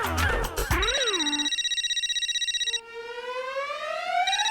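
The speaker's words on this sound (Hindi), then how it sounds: "देखो मेरी बीवी का फोन आ रहा है" A mobile phone rings with a loud electronic ringtone of rapid warbling and rising tones, repeating steadily close by with no talking over it.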